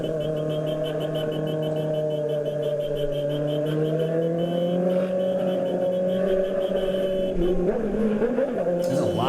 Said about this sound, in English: There's a lot of trucks.